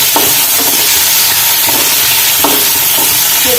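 Food frying in a pan over a high flame, a loud, steady sizzle and hiss with occasional stirring scrapes at intervals, close up and continuous, with no talking.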